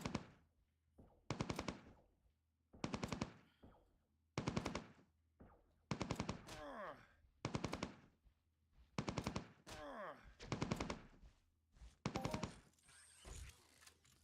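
Repeated bursts of rapid automatic gunfire from a gun in a video game, about nine short volleys in a steady rhythm with brief gaps between them, loud and up close with no talking.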